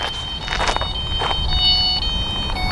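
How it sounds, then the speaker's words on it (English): A Delkim electronic carp fishing bite alarm at a lakeside sounds in short bursts of high tones over steady outdoor background noise. "Oh, there goes the alarm."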